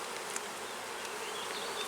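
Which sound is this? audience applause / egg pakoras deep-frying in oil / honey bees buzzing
honey bees buzzing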